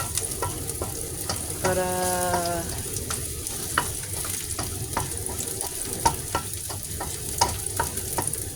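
Garlic and onion sauté in a pan for a simple home lunch, a soft steady sizzle with scraping stirs and occasional clinks, and a brief tonal ringing tone early on; a voice says a single word.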